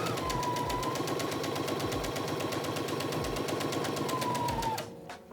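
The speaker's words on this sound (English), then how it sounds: "So we're just going to run a normal straight stitch on here." A domestic sewing machine runs a normal straight stitch through fabric, a loud, fast, even mechanical chatter with a steady whine that continues alone before stopping abruptly near the end.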